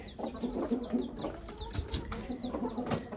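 Several hens murmur and cluck softly inside a dim coop at night, a continuous low chorus of overlapping calls with occasional louder squawks, close and steady.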